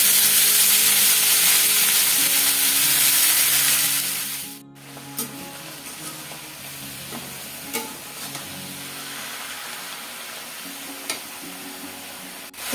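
Finely chopped radish greens hit hot oil seasoned with a bay leaf and nigella seeds, giving a loud burst of sizzling that soon settles into a softer, steady fry with occasional sharp stirring clicks.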